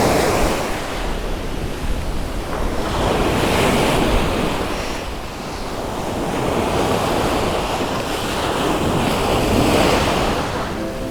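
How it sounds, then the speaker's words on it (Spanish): Gentle surf rolls onto Miami Beach on a calm day, the small waves washing in and out in slow swells while steady wind buffets the microphone, with no voices. "el mar estaba mucho más calmado, no habían casi ni olas"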